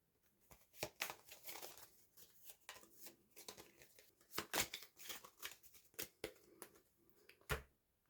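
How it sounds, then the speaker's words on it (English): A deck of cards from the Blood and Fury board wargame is shuffled by hand, making soft, close bursts of papery riffling and flicking in uneven rhythm, quiet with gaps between handfuls. "And give the formation deck a little shuffle."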